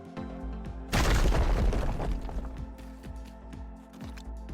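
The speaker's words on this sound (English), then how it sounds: "fire the cannon. It works." A cannon fires from a player-built ground vehicle in a video game, one loud booming blast with a sharp crackling burst that decays over a few seconds, leaving a steady engine-like hum and faint clicks afterward.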